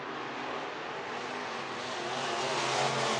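IMCA race cars roar around the dirt oval at Boone Speedway in Iowa, a dense, continuous engine drone that swells slightly as the pack passes.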